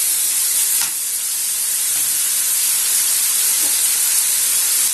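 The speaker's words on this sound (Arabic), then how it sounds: "هنحط البصل." Onion sizzling loudly in a pan with liver, a dense, steady hiss of frying held close for several seconds with faint stirring scrapes.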